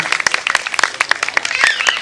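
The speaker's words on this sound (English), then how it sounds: "Can we have a round of applause for them as well once?" A concert audience at a spiritual music tribute claps for the musicians, a lively, close burst of individual hand claps with distinct sharp strikes and faint voices mixed in.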